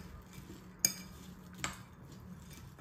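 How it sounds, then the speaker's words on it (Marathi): A spoon mixes bhel of little millet khakara, roasted peanuts and sev in a bowl. Two sharp close clinks stand out above soft, faint stirring and rustling. "हे आता परत मी असं सगळं मिक्स करून घेते"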